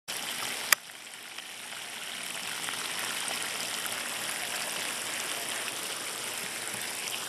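A garden hose sprays steadily over freshly planted garden plants and dirt, a continuous close hiss of running water after a brief knock at the start.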